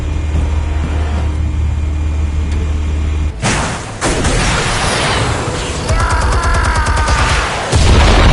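Explosion in the Batman: The Telltale Series video game, a sudden loud blast cutting into a low droning background, followed by crashing debris, impacts and dense noise that stay loud to the end.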